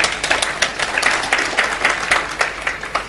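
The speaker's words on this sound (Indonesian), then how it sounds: "Kita beri tepuk tangan, saudaraku" A church congregation applauds during a Bible morning sermon with a dense, steady wash of clapping that holds for about three seconds at even strength.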